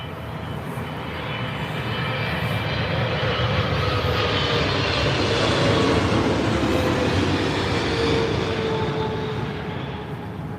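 A Boeing 777 at London Heathrow roars past with a loud, sustained jet engine rumble and hiss that swells to a peak midway and then slowly fades.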